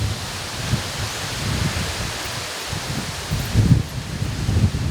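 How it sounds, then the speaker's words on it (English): Gusty wind buffets a microphone outdoors beside a roller pigeon loft in June, a steady broadband rush with low rumbling surges that strengthen toward the end, no voices. "It's a bit windy today"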